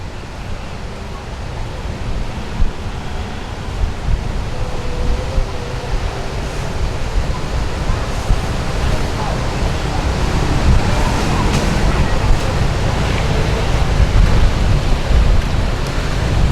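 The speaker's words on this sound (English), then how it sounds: "The sea's a little bit choppy here today" Choppy sea waves break at Jomtien Beach in Pattaya, Thailand, a steady, rushing wash of surf with gusty wind noise that swells slightly over time, heard from the shore.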